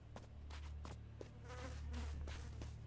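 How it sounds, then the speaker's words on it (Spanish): Flies buzzing in the video game Elex II, a steady insect drone running continuously under a low background hum, with a few brief clicks and rustles. "Moscas, por ejemplo."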